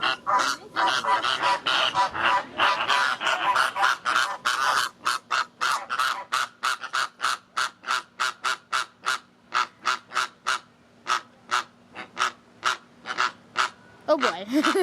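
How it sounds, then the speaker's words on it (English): A flock of 19 Caribbean flamingos, 17 males and 2 females, in an outdoor zoo exhibit gives loud, rapid honking calls that start as a dense overlapping clamor, then settle into a steady run of separate repeated honks. "next up is our flock of 19 Caribbean flamingos."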